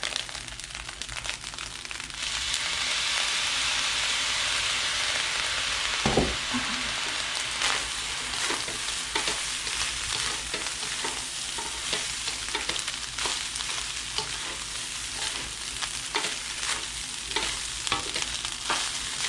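Crab fried basmati rice sizzles steadily in a hot pan while a spatula stirs and scrapes through it, a continuous loud frying hiss with frequent clacking strokes.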